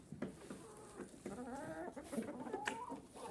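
Farmyard hens, including a white laying hen, cluck in a series of short, quiet calls with a few drawn-out tonal clucks, close by and without talk.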